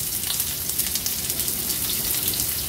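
Finely chopped onion sizzles in hot oil with torn bay leaf pieces, a close, steady, loud crackling hiss that carries on without a break, with no voices over it.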